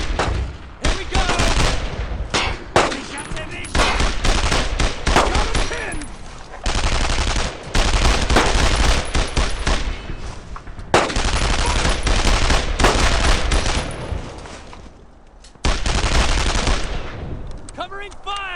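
Dense, loud gunfire from the World War II video game Brothers in Arms: Road to Hill 30, set during the D-Day landings, with rapid bursts and repeated single shots filling the scene almost without pause and brief gaps between volleys.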